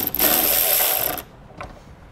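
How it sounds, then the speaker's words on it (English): A ratchet fitted with a 10 mm socket spins out a taillight bolt on a 2013 vehicle, giving one loud, steady mechanical clicking burst of about a second, then a brief fainter click. "Take a 10 millimeter socket,"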